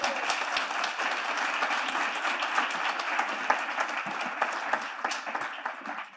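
Room full of attendees applauding at a press briefing, a loud, dense patter of many hands that stays strong and fades out at the very end.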